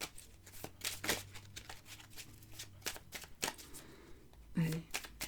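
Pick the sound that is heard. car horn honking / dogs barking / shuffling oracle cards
shuffling oracle cards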